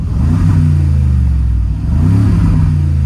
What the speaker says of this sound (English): This thing is an old school screaming V8 that kind of makes truck noises.